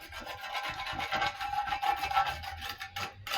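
A rough-edged cement craft piece is scraped smooth by hand in a steady, close rasping rub that continues throughout.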